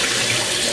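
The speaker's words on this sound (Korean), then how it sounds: "한번 헹궈줍니다" Water runs loudly and continuously over boiled beef ribs being rinsed, a brief close-up rush of splashing with no speech.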